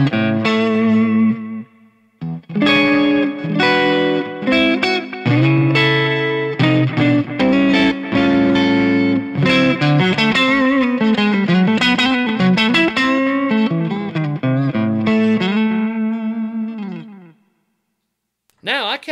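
An electric guitar plays through a Kiesel Johnny Hiland JH6 lipstick pickup, a run of bright, ringing notes and chords with some bends and effects, loud and close, before cutting off near the end.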